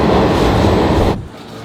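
A New York City subway train rides along with a loud, dense rumble and rattle that suddenly drops to a quieter hum near the end.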